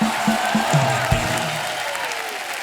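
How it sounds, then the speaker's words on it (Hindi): Studio audience at a Hindi comedy talk show breaks into loud, steady applause, a dense wash of clapping with a low musical sting underneath. "आज हमारी इंडस्ट्री के आयरन मैन लोग आए हैं, जोरदार तालियां हो जाएं।"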